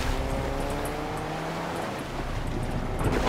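A car drives in a straight line in Fortnite, with a steady engine drone and rushing noise running continuously at moderate level, no talk over it.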